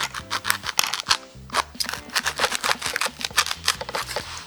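Scissors snip through the corner of a handmade craft play button in a quick series of close, crisp cuts over a faint background hum.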